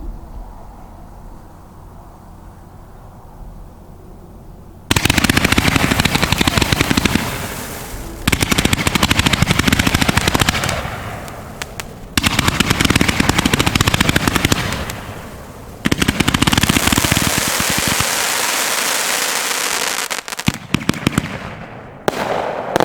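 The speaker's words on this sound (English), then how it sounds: "125 shot Dance of Death Pyro Demon fireworks." A 125-shot Pyro Demon Dance of Death 500g firework cake with 1-inch tubes fires in loud, dense crackling volleys, rapid bursts in several long stretches separated by brief pauses, with no talking.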